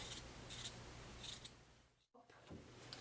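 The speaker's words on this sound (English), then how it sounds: "So I'm just gonna trim that down a little bit." Scissors snip through Ankara fabric while a bodysuit is trimmed, making a few crisp, close cuts spaced about a second apart over a steady low room hum.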